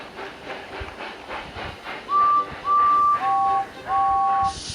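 Rhythmic chuffing of a steam locomotive in a train yard with a steady background hiss, joined by a loud two-tone whistle blown in several long blasts.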